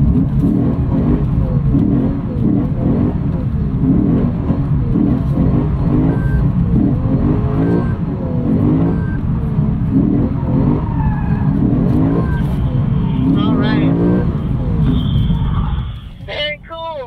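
A Lexus performance car laps the Mid-Ohio race track, its engine droning continuously and loud with shifting pitch throughout.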